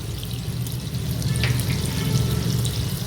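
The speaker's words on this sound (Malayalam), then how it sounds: "ആ സെയിം പാനിൽ തന്നെ ഒരു 2 ടേബിൾ സ്പൂണ് ബട്ടർ ഇടുക" Two tablespoons of butter sizzling in a frying pan used for a garlic butter sauce for chicken, a steady close crackle and hiss with a low bubbling undertone throughout.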